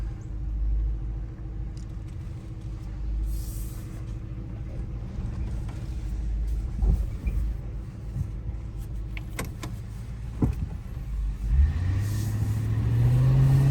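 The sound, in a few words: 2008 Ford Crown Victoria driving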